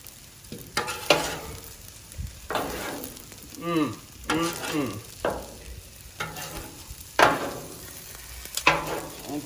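Eggs frying on a hot grill alongside fried rice, a constant close sizzle with sharp scrapes and clinks of a spatula turning and moving the food every second or two.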